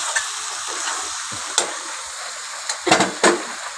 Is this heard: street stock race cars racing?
no